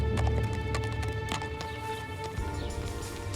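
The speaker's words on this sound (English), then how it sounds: "David and Shannon then mounted their horses and left." Horses being ridden away, their hooves clip-clopping in an irregular rhythm at moderate distance over a steady background bed.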